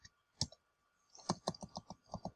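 Typing on a computer keyboard at a Windows command prompt: a single isolated keystroke, then a quick, close run of about a dozen soft clicks, with no voice.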